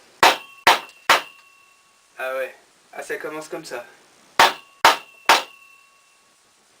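A hammer strikes a hard, dry piece of wood being shaped into salad servers: three sharp blows, then a pause with talk, then three more evenly spaced blows, loud and close.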